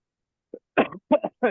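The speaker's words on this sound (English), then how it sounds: "Sorry for my coughing." A man coughs three times in quick, sharp bursts after a faint first catch, close to the microphone with silence between each cough, in a spoken lecture on Jewish archaeology in Jerusalem.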